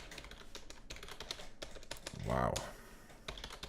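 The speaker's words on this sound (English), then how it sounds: "Typing is on point" Rapid clicking of keys on a computer keyboard during coding, close and busy with quick irregular bursts, interrupted midway by a brief spoken exclamation before the typing resumes.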